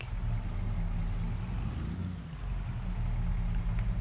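A tractor or farm vehicle engine in Farming Simulator 22 idles steadily at close range, a continuous low rumble holding even throughout with a slight dip partway through, no voices over it.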